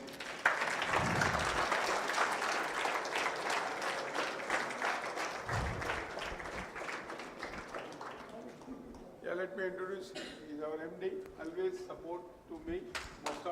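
Audience at a Kuwait trade event applauding a valve company team walking on stage, steady clapping for about nine seconds that fades as a voice begins speaking over a microphone.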